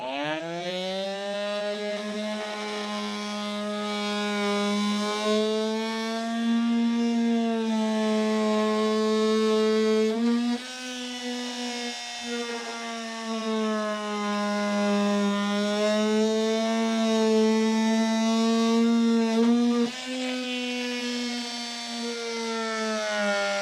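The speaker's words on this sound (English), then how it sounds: "Cut that out with a multi-tool." An oscillating multi-tool cuts into the plastic recess of a Ranger truck bed rail, giving a loud, steady buzzing whine that holds throughout with brief dips and changes in pitch, and no talking.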